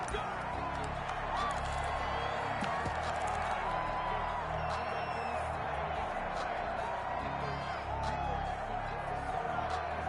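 A stadium crowd at a Madden 21 NFL game between the Philadelphia Eagles and Dallas Cowboys, giving off a steady, dense roar of cheering throughout with voices mixed in.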